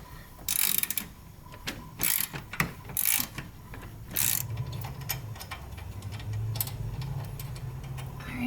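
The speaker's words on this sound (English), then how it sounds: "the studs are loose, so now we can just remove them." Ratchet wrench clicking in short bursts while backing out loosened turbocharger studs, several separate runs of rapid ticking against a quiet garage background, no talking.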